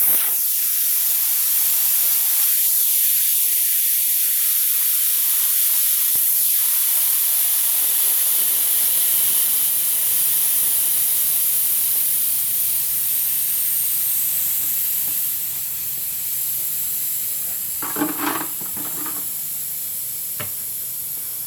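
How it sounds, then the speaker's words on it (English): A tractor tire valve stem is removed and air hisses out in a loud, sustained rush, slowly easing over some twenty seconds with a few faint clatters near the end. "grab your valve stem remover tool, take off your cap, and then remove the valve stem"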